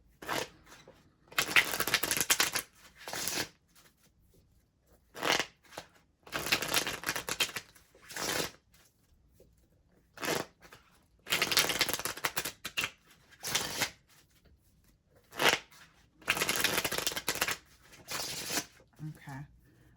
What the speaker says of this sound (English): The romance angel cards are already shuffled